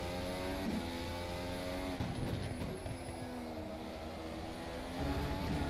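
An F1 development car in the racing sim rFactor 2 holds a high, sustained engine whine with layered harmonics, shifting pitch slightly as it revs hard in full power mode, steady and loud throughout.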